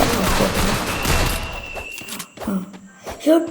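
Rapid automatic gunfire from the video game Free Fire crackles in a dense burst, then thins out into a few scattered, separate shots and thuds.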